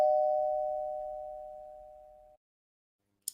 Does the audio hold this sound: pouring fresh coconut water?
no